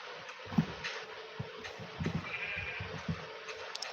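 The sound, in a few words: sheep bleating in the video game Minecraft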